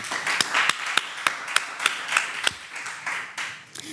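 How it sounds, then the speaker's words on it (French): Audience applause, with a few loud, distinct claps standing out in a roughly steady rhythm over a softer bed of clapping, fairly close and clear. "Les gars, faites d'abord une tournée d'applaudissements pour YK."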